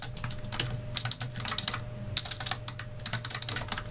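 Code being typed on a computer keyboard: rapid, irregular clusters of close, crisp key clicks run throughout over a faint steady hum, with no voice.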